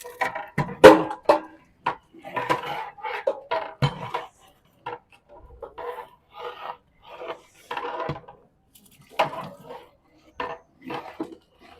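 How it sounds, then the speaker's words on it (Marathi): Dry lentils (dal) rattle and scrape into a large pot in a series of irregular gritty bursts and shuffles, close and separated by short pauses. "आता त्याच्यात डाळ ओतलं जाईल"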